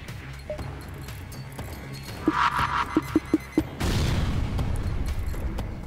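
A spaceship taking weapons fire in the FTL: Faster Than Light video game, a string of short sharp impact pops followed by a heavier, sustained rumbling blast, moderately loud under a steady game soundtrack.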